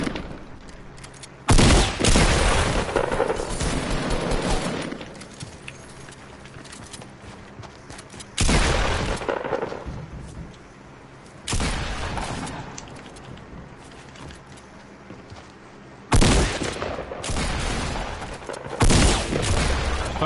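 Rapid bursts of gunfire in a Fortnite Battle Royale duos match, several loud volleys separated by quieter stretches of game ambience, with sharp impacts and rattling shots recurring across the scene.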